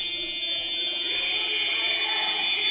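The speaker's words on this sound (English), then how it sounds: "There's the buzzer, and Ollie just calls it." A full-time buzzer sounds at a rugby match, Ireland versus Wales in the Celtic Cup, a steady high-pitched electronic tone held continuously over faint crowd ambience.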